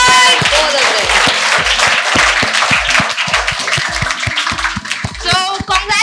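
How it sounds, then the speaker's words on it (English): Group applause for Utkarsh at a felicitation ceremony: steady, loud clapping from many hands through the whole stretch, with voices and cheers mixed in. "guys, clap for Utkarsh"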